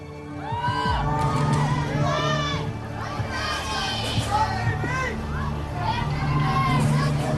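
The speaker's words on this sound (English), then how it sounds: "The crowd yelling out encouragement." Spectators at a David Blaine stunt yell and cheer encouragement, a loud mixed crowd of adult and young voices shouting and whooping continuously, with individual high calls rising above the steady roar.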